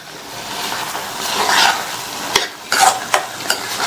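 Drumstick masala thokku being stirred in a pan, a steady scraping sizzle with sharp spoon clatters against the metal near the end, close and fairly loud with no voices.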